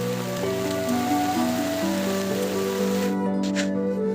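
Light drizzle patters steadily on an umbrella during a walk outdoors, a continuous close hiss of raindrops with a faint tonal hum underneath.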